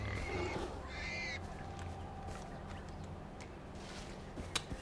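A bird cries in the video game Far Cry 4, with a couple of harsh, croaking calls at the start over a constant outdoor game ambience, followed by scattered faint clicks and rustles.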